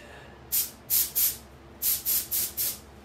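Seven short hissing bursts of spray primer on a fishing lure, in a pair followed by a quick run, fairly close and alone over a quiet background.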